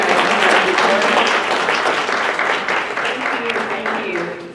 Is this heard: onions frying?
no